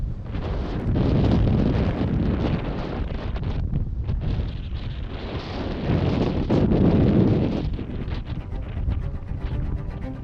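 Strong desert wind in a sandstorm buffets the microphone in heavy, surging gusts, a loud continuous roar that swells and eases without any voices.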